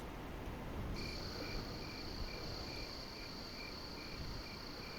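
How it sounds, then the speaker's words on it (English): Crickets chirp steadily in a quiet night ambience in American Truck Simulator, a continuous high trill joined by a softer, evenly pulsing chirp, with no voices. "Listen to the old crickets. Oh, it's peaceful, isn't it?"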